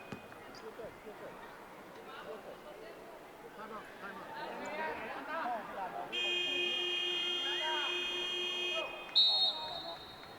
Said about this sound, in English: So the buzzer goes for half-time